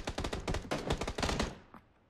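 Rapid bursts of gunfire in the battle royale game PUBG, a dense volley of automatic shots for about a second and a half, then a lone shot as the sound cuts off.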